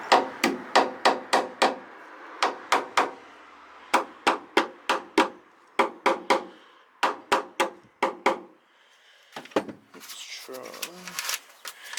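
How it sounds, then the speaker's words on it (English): A small hammer taps the metal of a Suzuki Escudo/Grand Vitara tail light in quick bursts of sharp, ringing strikes, several clusters with short pauses between, close and fairly loud, followed by some shuffling. "I'm just going to tap it lightly with a little hammer here as well"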